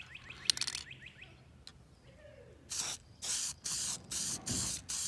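A few faint clicks, then a run of five steady silicone conformal coating aerosol spray bursts onto a circuit board, each about half a second, evenly spaced and close by.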